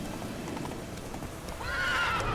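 Roach the horse from The Witcher 3 gallops with rapid, quiet hoofbeat clip-clops, then lets out a loud, high neigh near the end.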